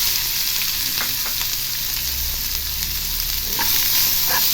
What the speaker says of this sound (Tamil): இது பொரிஞ்சதும் 2 பெரிய வெங்காயம் பொடியாக கட் பண்ணது அதையும் போட்டுக்கிறேன்.